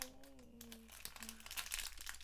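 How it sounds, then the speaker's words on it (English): A crinkly bag being crumpled up close, a faint hum and a brief groan-like tone at the start giving way to dense, rising crackles and crinkles. "Crinkly bag."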